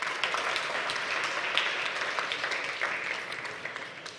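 Audience applause at a tech pitch session of a blockchain and AI summit, a steady wash of clapping from a room of people, moderately loud and continuous with no voices over it.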